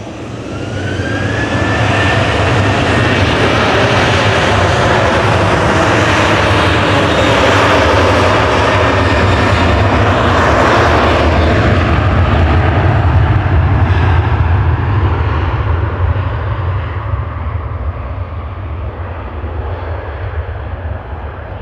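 A Ryanair jet airliner bound for Marrakesh takes off from Manchester Airport: loud, sustained engine thunder with a rising whine, swelling in the middle and tapering slightly as it moves away, with no talking.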